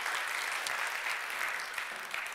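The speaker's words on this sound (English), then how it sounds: "Let's give a round of applause one more time to our wonderful artists." An audience applauds musicians, including a vocalist, at the Taitaja2025 International Welcome Seminar, with even, sustained clapping at moderate level and no pause.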